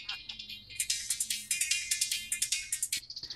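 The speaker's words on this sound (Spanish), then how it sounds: "¿A qué era referencia el ringtone del celular?" A mobile phone ringtone plays a quick run of bright, repeating electronic tones in a steady pulsing rhythm, fairly loud and continuous over a few seconds.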